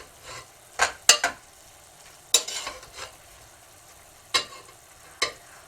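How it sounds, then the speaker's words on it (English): A spoon stirs drained pasta with olive oil, making a few separate wet scrapes and metallic knocks spaced across a quiet background, each short and close. "I'm just going to put in about 1/4 cup of olive oil and stir it in there"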